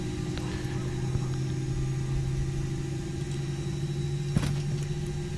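A steady engine drone from an Airbus A320 in the X-Plane 10 flight simulator, a constant hum of even loudness with no voices.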